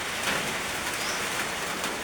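Rain beginning to fall over a house backyard, a steady broadband hiss of drops hitting surfaces, fairly loud and continuous with no talk.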